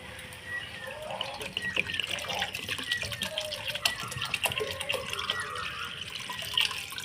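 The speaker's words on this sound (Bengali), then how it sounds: "এবারে আমি জল দিয়ে দিচ্ছি সিদ্ধ হওয়ার জন্যে" Water splashes and trickles into a cooking pot, added to boil Katla fish head muri ghonto with dal, a light, uneven pouring and dribbling sound close by with no talking.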